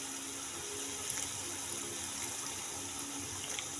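Water is poured into a pot of frying vegetables for pulao, producing a steady, even hiss that runs throughout at moderate volume.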